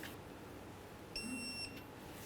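A torque wrench tightening a tie rod nut to 35 foot-pounds on a 1994-2004 Chevy S-10 gives one short, clear electronic beep, quiet and close, with only faint room noise before and after.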